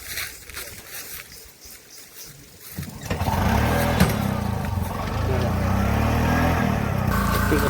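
A motorcycle engine starts up partway through and runs loudly and steadily at close range, with people talking over it during a fishing outing.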